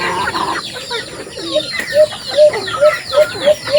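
A chicken clucks repeatedly in a quick, evenly spaced series of short calls, nearby, over faint outdoor ambience.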